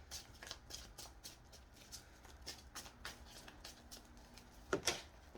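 Tarot cards being shuffled and pulled by hand: a quick run of soft riffling card taps, then a sharper flick near the end, close and fairly quiet, with no voices.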